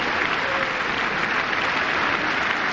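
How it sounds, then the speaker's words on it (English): Tennis crowd at the 1998 Roland Garros semifinal cheering and applauding, a dense, steady wash of clapping and voices filling the whole stretch at close, even loudness. "Crowd cheering for that."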